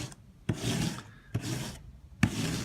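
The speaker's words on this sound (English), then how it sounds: "Sounds like I'm grinding cheese here, but I am painting" A heavy textured roller spreads colour wash across a wall, making coarse, gritty rasping strokes close up. About three long, rhythmic passes repeat, each starting with a soft thump, and no one speaks.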